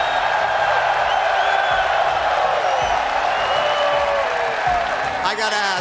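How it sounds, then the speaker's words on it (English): A huge crowd at Dickies Arena roars and applauds at a Rocket League World Championship esports match, a loud, steady wash of cheering that fills the whole stretch. "how does that make you feel to hear this roar?"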